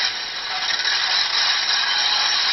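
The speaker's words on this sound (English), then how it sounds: "12 is the noise when it goes round a sharp corner." Dapol black label A4 model locomotive sound effect for rounding a sharp corner: a steady, bright metallic screeching hiss held continuously at even loudness, no voices.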